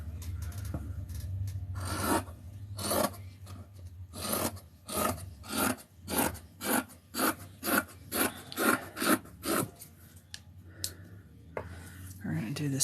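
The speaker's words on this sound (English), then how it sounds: "Just trimming this down a little bit to make it easier to glue this to the cardboard here." Scissors or a blade rasping repeatedly through paper and cardboard while trimming for a handmade book, a run of close, rhythmic scraping strokes in the middle of the clip, with quieter handling sounds before and after.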